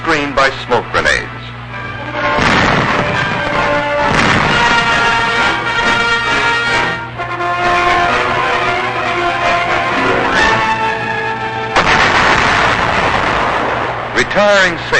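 Combat on Okinawa in 1945: heavy gunfire and explosions crackle and boom in dense, loud bursts, with short lulls between volleys and narration running over much of the noise.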